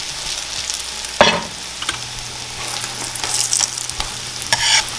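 Egg batter tortillas frying in a pan give a steady, soft sizzle, broken by a few sharp spatters and utensil scrapes as the batter is spread and stirred.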